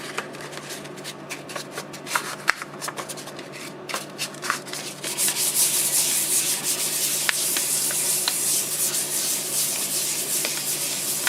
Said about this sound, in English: I'm going to show you a little bit of the final sanding on the polycrylic